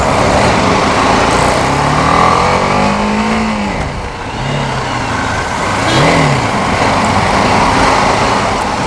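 A BMW G310 GS motorcycle on a test ride: the engine hums and revs up and down through gears close to the microphone, under constant rushing wind and road noise.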